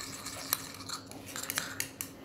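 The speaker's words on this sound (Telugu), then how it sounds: "దీన్ని ఇలా కలిసిపోయేటట్టు కలుపుకోవాలండి" An aloe vera face pack mixture stirred in a small bowl for a home facial produces faint, close clinks and scrapes of a utensil, in a quick irregular rhythm with no talk over it.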